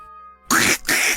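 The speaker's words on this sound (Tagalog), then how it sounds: "Ang dami namang kwak-kwak niyan, Lola Glenda." A duck quacks loudly and close in a rural countryside setting, two rapid bursts of harsh, raspy quacking separated by a brief pause, after a quiet moment at the start.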